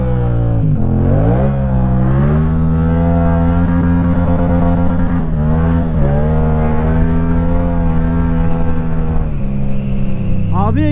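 A Yamaha MT-07 motorcycle revs hard with its rear tyre slipping, engine pitch rising and falling in sustained loud sweeps over several gear changes, close and continuous, while a rider's voice is heard.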